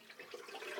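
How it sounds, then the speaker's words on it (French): Water poured out of a plastic box makes a brief, soft splashing gush, close and faint, lasting under a second. "je vais vider l'eau"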